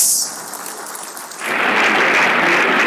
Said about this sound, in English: can we please give Daddy another resounding applause?